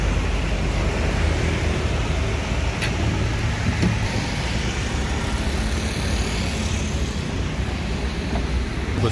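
Steady broadband road rumble of a Pelangi intercity bus passing by on the road, a continuous engine and tire roar that stays loud throughout with no talk.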